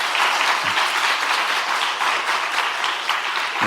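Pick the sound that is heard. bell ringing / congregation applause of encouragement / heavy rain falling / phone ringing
congregation applause of encouragement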